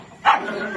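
A tied-up farm dog in a Marathi village lets out a single short, sharp bark close by, followed by quiet background.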